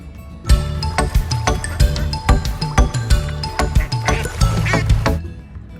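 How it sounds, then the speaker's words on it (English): A run of repeated quacking calls, loud and close, coming in quick irregular bursts over a steady noisy background. "Duck."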